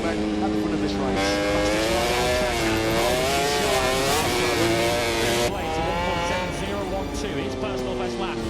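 Ducati MotoGP motorcycles race at the Italian Grand Prix, engines screaming loud and continuous with rising and falling revs, under steady commentary.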